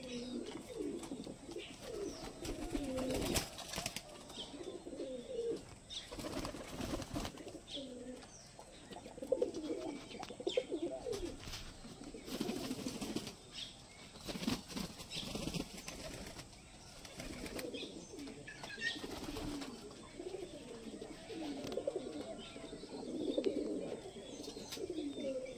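Fancy pigeons in a village breeding loft coo steadily in overlapping throaty calls, with bursts of wing flapping and rustling throughout, moderately close and unbroken by talk.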